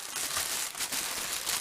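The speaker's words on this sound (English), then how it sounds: "Get this damn thing out of the plastic bag" Continuous crinkling of a plastic bag, steady and fairly close, with scattered crackles and rustles throughout.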